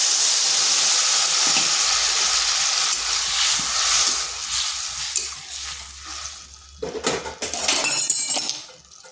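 Tomato paste and green chili hit a hot pan of fried potatoes, giving a loud, steady sizzle and hiss. Later come sharp clatters and scraping bursts as the mix is stirred.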